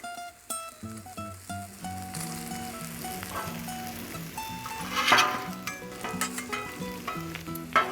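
Onions sizzle steadily on a Blackstone griddle while a spatula scrapes and stirs them in short irregular strokes, with a busy background of melodic tones mixed over the cooking noise.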